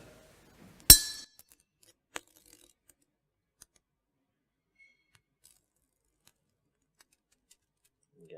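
A glass wine bottle neck, heated with hot tongs and then touched with a feather dipped in ice-cold water, gives one sharp, close crack followed by a faint tick about a second later, with near silence around them.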